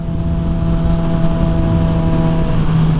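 A motorcycle riding through city streets, its engine a loud, close, steady drone with a sustained tonal hum and no pauses.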